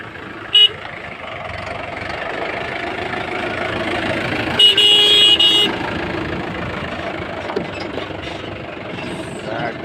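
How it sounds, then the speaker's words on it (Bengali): A car passes on an outdoor road where goats are nearby, its horn giving a short toot early on and a longer honk midway over a steady engine rumble, with voices in the background. "একটা গাড়ি যাচ্ছে তো"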